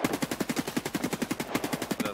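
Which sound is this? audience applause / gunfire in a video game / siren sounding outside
gunfire in a video game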